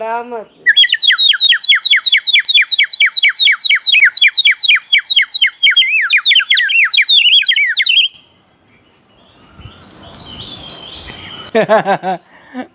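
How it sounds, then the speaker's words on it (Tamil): Loud, rapid bird chirps and whistled trills from a bird answering a whistle repeat for several seconds, then a pause with faint rustling before a few more sharp calls close it out. "ஒரு குருவி இதே சத்தத்தில் இங்கே வந்து சத்தம் போடும்"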